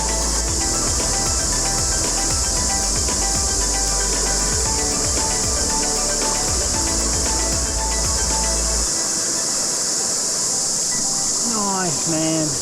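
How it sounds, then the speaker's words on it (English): A cicada shrills steadily in the New Zealand outdoors beside a trout river, a dense continuous buzz running the whole time with low rumbling beneath and a brief rising squeal near the end. "there's a cicada"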